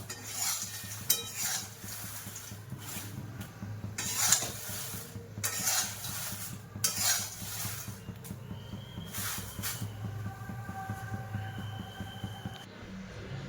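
Dried chillies roasting for a homemade Maharashtrian spice masala are stirred constantly in a pan, giving repeated scraping strokes over a low, steady sizzle with no talking.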